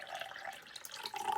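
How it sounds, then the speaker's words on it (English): Water poured into a cup in a musical-cups sound experiment: a steady trickling splash with a rising tone near the end, lasting about a second and a half, close and moderately quiet, with no talking. "Now let's add a little bit more water to our cup."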